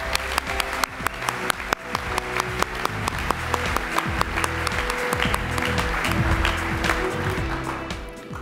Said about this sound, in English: Let's give everyone who's running or walking a big round of applause.